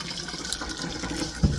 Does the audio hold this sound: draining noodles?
yes